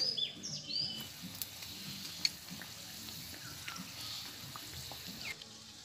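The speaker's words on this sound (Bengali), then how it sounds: "ভালো করে উল্টে পাল্টে ভেজে নিতে হবে" Mughlai paratha shallow-frying in a pan, giving a steady, soft sizzle of oil with faint crackles throughout, fairly quiet and close, with no talking.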